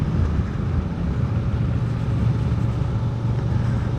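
Honda Transalp 750 motorcycle engine droning steadily at speed while shifting from fifth into sixth gear, a loud continuous low rumble mixed with wind rush and no clear break in the tone.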